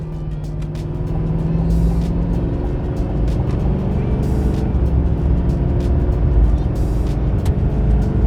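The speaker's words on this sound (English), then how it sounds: "It's time for our acceleration test, getting up to speed on the highway" A Chevy 2500 with the new 6.6L L5P Duramax diesel accelerates hard on a highway at full throttle, building a steady loud drone of engine and road roar heard from inside the cab.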